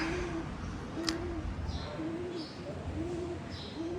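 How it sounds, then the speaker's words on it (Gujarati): A pigeon coos in a rhythmic series of about five soft, low, rounded calls at a steady pace, heard fairly close over a background hum of household noise. "કબૂતર"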